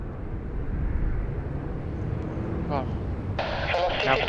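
An airplane taking off at Sydney Airport on a wild, windy day, a steady low engine roar with gusting wind noise, joined near the end by a faint radio-like voice.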